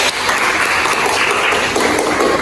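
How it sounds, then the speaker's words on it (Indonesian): Applause from a health-promotion class audience, a dense, steady wash of clapping at close range that keeps up evenly for a couple of seconds with no talk over it. "Nah, bagus sekali ya berikan aplaus."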